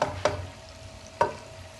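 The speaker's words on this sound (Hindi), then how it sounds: "गोश्त भुना जा रहा है" Mutton frying in ghee in a pot for khara masala, a low steady sizzle under two brief scraping stirs of a spoon, close and moderately loud.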